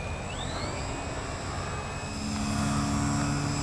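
A PA Addiction XL radio-controlled airplane flies overhead with a steady electric propeller whine that shifts pitch, holding fairly loud and close with no talking.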